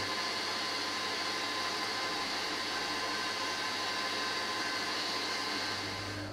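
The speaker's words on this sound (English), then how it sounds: "the egg whites whisking and whisk to the soft peak stage" An electric whisk beats egg whites to soft peaks for a meringue, a steady, even motorised whirring hum with no breaks, close by and moderately quiet throughout.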